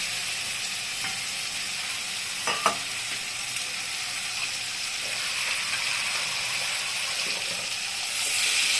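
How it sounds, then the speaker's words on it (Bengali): Raw banana kofta curry prep: water goes into a pan of frying potatoes in oil, giving a steady, close hiss of sizzling with a few clinks of stirring, swelling louder near the end. "জল দিয়ে দিলাম, দিয়ে এখন কষাবো ভালো করে"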